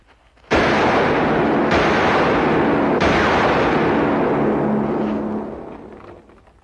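Gunfire in a 1956 Western film: three loud, booming blasts in quick succession merge into a continuous roaring rumble that slowly fades away, with no speech.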